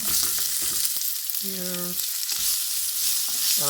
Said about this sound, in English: let the heat sort of break up the onions